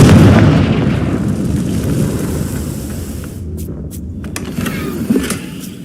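A Confringo blast spell exploding in Hogwarts Legacy, a loud booming burst that rumbles and fades over several seconds, followed by faint crackles, with no talk.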